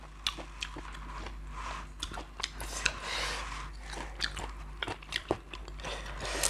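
Close, wet chewing of raw Thai-style beef, with soft crunches and bites in an uneven rhythm, quiet and intimate with no talking over it.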